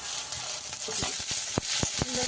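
Chopped onion and green chilli sizzle in hot oil with toasted cumin, a steady close hiss broken by scattered crackles and small pops.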